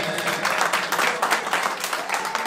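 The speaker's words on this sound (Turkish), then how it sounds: "Orhan Aga'dan güçlü bir alkış gelsin lütfen." Party guests at a birthday celebration in Offenbach am Main applaud for Orhan Aga, a dense, steady wash of many hands clapping close by, sustained throughout with no clear pauses.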